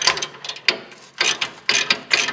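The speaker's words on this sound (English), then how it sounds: "I'm just going to loosen these." A ratchet wrench loosens exhaust nuts on a C8 Corvette, producing quick bursts of crisp clicking ratchet strokes separated by short pauses, close and alone.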